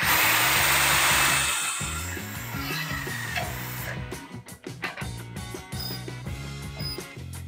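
An Einhell 18 V brushless drill driver spins a screw at speed 2, a loud whirring that fades and stalls into uneven clicking and rattling, close up with no voices.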